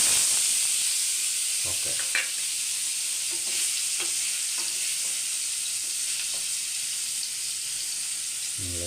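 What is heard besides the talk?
paneer pieces frying in hot oil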